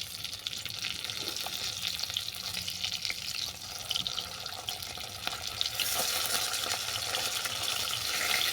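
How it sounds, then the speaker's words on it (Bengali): Bhola fish and lentil fritters, salted and rubbed with turmeric, frying in hot oil in a kadai: a steady broadband sizzle and crackle that swells slightly louder toward the end, with no voices. "এরপর মাছের মধ্যে আর ডালের মধ্যে লবণ আর হলুদ মেখে আমি ভেজে নেব"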